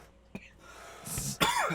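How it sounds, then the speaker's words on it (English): A single short cough near the start, followed by a couple of rough, breathy throat-clearing bursts toward the end, fairly close and moderately loud. "I got a cough after doing that last voice"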